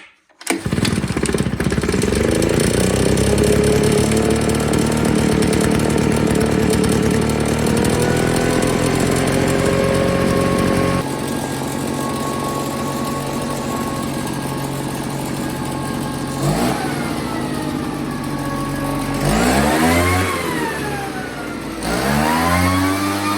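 Small engine on a snowblower or leaf blower being started, then running steadily as a loud, buzzing drone close by, its pitch shifting and revving near the end.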